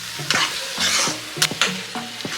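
Pumpkin halwa with jaggery is stirred in a pan over a medium flame, giving a soft sizzle with repeated scraping strokes of the spoon, close and fairly quiet, with no voices.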